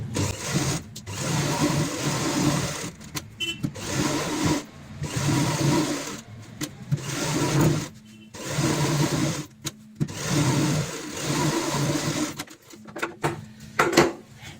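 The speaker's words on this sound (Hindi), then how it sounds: "इस तरीके से हमने 12 बाई 12 की यहाँ पे सिलाई लगा ली है।" Sewing machine stitching a 12 by 12 inch cushion cover piece, running in steady bursts with short pauses between, close and fairly loud with no talk.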